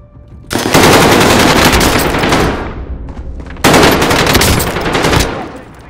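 Loud sustained automatic gunfire in the shooter game Warzone arrives in two long rattling bursts, close and dense, separated by a short pause and then fading out.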